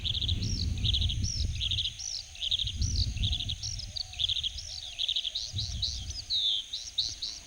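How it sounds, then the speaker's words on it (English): A very small bird in an Asian forest calls repeatedly in quick, high chirping bursts, steady and fairly close over low rustling background noise. "This very small bird seems to have a lot to say."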